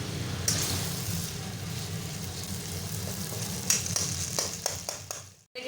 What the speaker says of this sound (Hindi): आलू को तकरीबन 3 से 4 मिनट अच्छी तरह से भून लेंगे